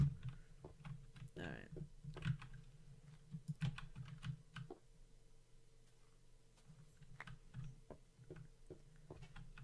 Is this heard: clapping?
no